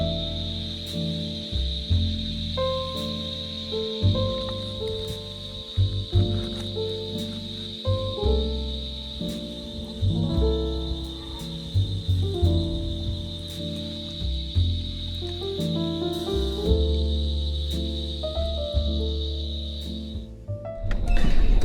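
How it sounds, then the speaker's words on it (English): A loud, steady high-pitched drone of cicadas fills a campsite in the high country for most of the stretch, with thuds and knocking from camp activity underneath, before the drone cuts out near the end. "listening to the cicadas"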